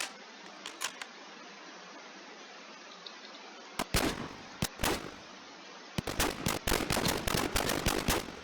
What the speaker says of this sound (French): c'est un fusil à pompe?